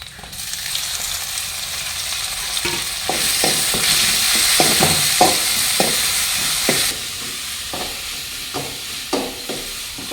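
Tomatoes sautéing in a hot pan over golden onions as a base for a tiny shark fish curry, a steady loud sizzle and hiss with intermittent scraping stirs of a spoon, continuous throughout.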